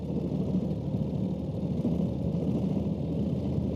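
A Ural motorcycle engine holding around 2,500 revs at light throttle on a ride, a steady low rumbling drone that stays even throughout, close and moderately loud with no voices.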